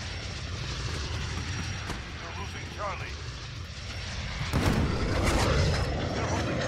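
In Call of Duty: Modern Warfare, a friendly VTOL jet holds overhead with a constant roaring engine wash under battle noise, and a radio voice speaks over it.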